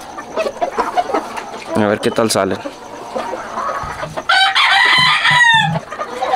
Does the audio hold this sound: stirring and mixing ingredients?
no